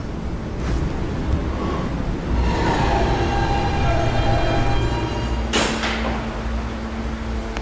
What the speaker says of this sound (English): This is a Catlin bound H train via the E line.